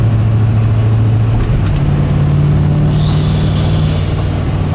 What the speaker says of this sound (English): Boost leak. Yeah, boost leak.